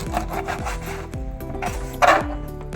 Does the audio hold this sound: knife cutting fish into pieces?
yes